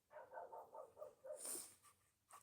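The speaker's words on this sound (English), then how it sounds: "And you can hear my dog barking." A dog gives a quick run of five or six yappy barks close by, then a sharper squeal and a couple of fainter yips, all fairly quiet and with no voices.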